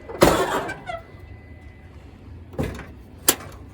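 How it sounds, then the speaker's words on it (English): A 1958 Chevy door is shifted by hand, giving a few separate clunks and scrapes of metal with quiet gaps in between, near and moderately loud. "Should we ease this door over?"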